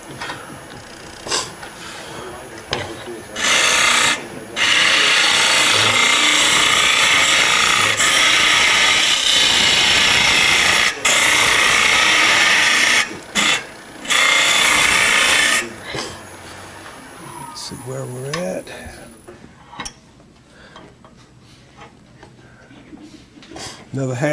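A carbide scraper cuts a turned wooden box on a lathe, making a loud, rough, grinding scrape in long bursts with short breaks between them. Someone talks in the quieter parts before and after the cutting.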